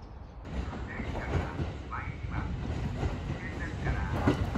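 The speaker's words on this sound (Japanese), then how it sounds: "伊勢若松行きのね電車が入線です。" A Kintetsu train pulls into a small station on the Suzuka Line bound for Ise-Wakamatsu, with a steady low rumble and brief high squeals from the wheels or brakes, heard nearby.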